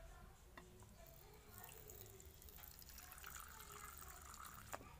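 Faint running water trickles and splashes as liquid is poured, with low murmuring voices and background noise throughout.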